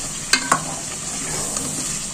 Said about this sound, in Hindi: और अब हम इसमें डालेंगे जो हमने प्याज और टमाटर का पेस्ट बना के रखा था, वो हम डालेंगे, थोड़ा सा भूनेंगे